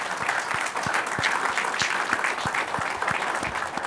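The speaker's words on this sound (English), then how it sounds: "A round of applause to all of us." Audience at a fireside chat event applauding, a steady wash of clapping with distinct individual claps recurring in front, moderately loud and sustained.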